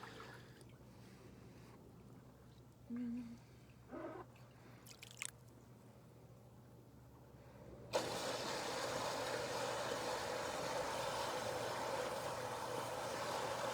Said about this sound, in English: So these jets want to fire some up?